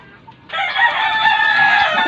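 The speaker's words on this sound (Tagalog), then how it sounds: "Bibigyan na natin dito sa mga manok natin." Rooster crowing loudly and close in a backyard flock, one long sustained crow lasting about two seconds after a brief faint cluck, with no talking.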